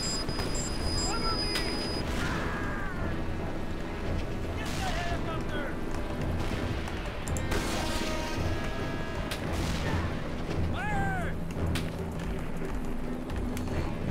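Explosions destroy a tank in the Mercenaries 2 video game, with heavy booms and gunfire rumbling continuously through a dense, loud battle soundscape and bursts of louder blasts; a voice is faintly present.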